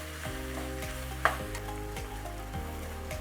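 Ground beef and peppers sizzle in a frying pan while being stirred, a continuous close frying hiss with one sharp utensil knock partway through.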